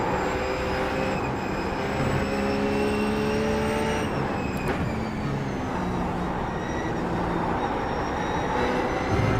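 A RUF race car engine at Road America in the iRacing simulator, droning loud and continuous with a steady high-revving pitch that shifts briefly midway, no voices.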